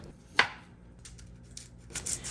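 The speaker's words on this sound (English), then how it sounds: "Start by chopping broccoli florets into bite-sized pieces." Broccoli florets being cut into bite-sized pieces with a kitchen knife, heard as a few sparse, crisp cuts and taps on a board, one sharper stroke early and a cluster near the end, with no voices.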